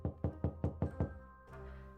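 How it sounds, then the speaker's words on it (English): Loud knocking on a door in the video game When The Night Comes, six sharp evenly spaced raps close up, then a low lingering tone. "A loud knock interrupts my train of thought"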